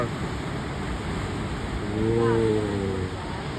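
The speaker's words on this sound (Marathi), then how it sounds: "आणि आता तुम्ही लाटा फक्त बघा." Ocean waves roll in at Kashali sunset point in Ratnagiri, a steady broad wash of surf that swells louder for a moment, with a voice briefly heard over the water.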